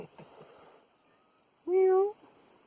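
A voice speaks briefly, then after a short pause a cat gives one clear, close meow.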